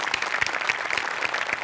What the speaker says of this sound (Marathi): वा जोरदार टाळ्या